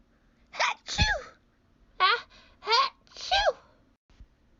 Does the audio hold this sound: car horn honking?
no